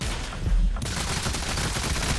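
SMG fire in a video game, a continuous stream of rapid gunshots that runs loud and dense through the whole short stretch, with no talking.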